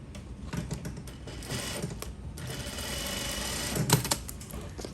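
A sewing machine understitches a lap zipper, running in a fast, close mechanical chatter with brief pauses and a short sharper burst near the end.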